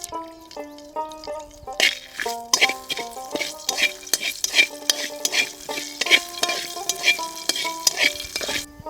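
Bay leaves and panch phoron hit hot oil in a kadai, giving a crackling sizzle with repeated clinks and scrapes of stirring. A few soft tonal notes play before the frying begins.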